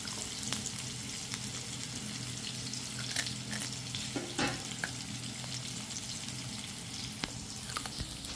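Onions fry and sizzle steadily in a pan, with a constant hiss broken by occasional clinks and stirring scrapes, with no talking.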